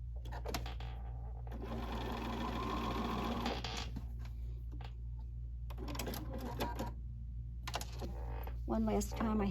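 A sewing machine stitches a quilt seam in close bursts, running steadily for a couple of seconds, then starting and stopping in shorter runs with pauses between.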